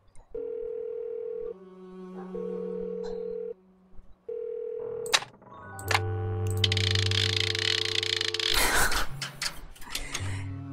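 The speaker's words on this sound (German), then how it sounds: "Also können wir wieder telefonieren." Telephone in the video game Dracula 3: The Path of the Dragon: a steady dial tone interrupted by dialing tones, then a ringing signal and a burst of line noise, loud and without speech.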